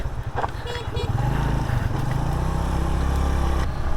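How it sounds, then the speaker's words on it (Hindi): Motorcycle horn honking on a steep, narrow mountain road in Taobat, Kashmir, sounding several quick toots over a steady engine drone, close and fairly loud. "इसलिए हॉर्न देना पड़ता है"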